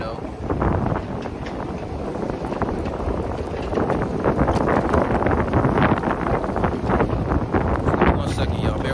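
Heavy wind pounds straight into the microphone outdoors, a dense, unbroken roar that swells louder midway and holds, with hints of a voice buried underneath.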